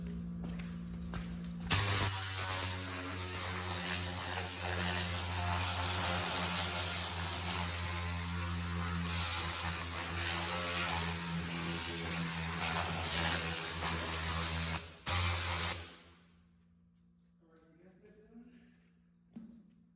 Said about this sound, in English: Let's go ahead and get the air compressor to blow off the little cracks and crevices.